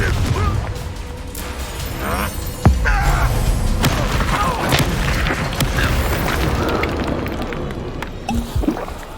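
The Confringo spell detonates in the video game Hogwarts Legacy with a sharp blast and crashing debris amid continuous dense combat noise and rumble, loud and close.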